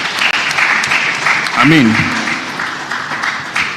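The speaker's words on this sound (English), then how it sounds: "That calls for a round of applause." Conference hall audience at an economic summit applauds in a steady, sustained wash of clapping, with a voice briefly speaking over it.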